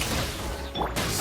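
A dense burst of Genshin Impact explosions and crashing impacts, loud and continuous, with a sharp bright blast near the end.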